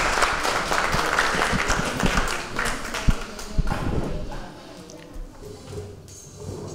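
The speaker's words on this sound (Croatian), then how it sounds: "Molim vas aplauz za ovo pitanje." Audience applause at a book promotion event, a burst of clapping from a seated crowd that is loud at first, then thins out and fades to scattered claps near the end.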